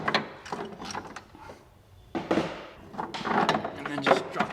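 Close bursts of ratchet clicking loosen nuts on a 2016-20 Kia Sorento during a lift kit install, broken by a short pause, with some quiet talk.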